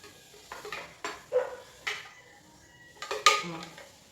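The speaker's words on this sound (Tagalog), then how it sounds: "aron hugasan na ning sudlanan." A container clinking after a spaghetti meal, a series of sharp knocks and scrapes of cutlery and dishes spaced about every half second, with faint talk in the background.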